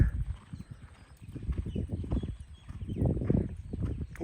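A horse canters with an easy rhythm, its hooves giving a close, loud clip-clop in repeated rolling beats that swell and fade as it moves past.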